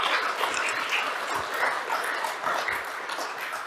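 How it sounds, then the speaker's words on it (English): Applause from a conference audience after a short paper talk, a steady dense patter of many hands clapping at moderate distance, filling the room evenly without a clear break. "Let's give Ruth a round of applause."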